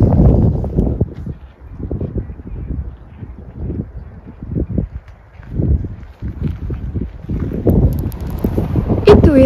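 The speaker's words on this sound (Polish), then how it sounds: "Dość mocno wieje, więc nie wiem, czy nie będę zagłuszana" Strong wind gusts buffet the microphone at a beach, rising and falling in loud rumbling bursts throughout, with no voices.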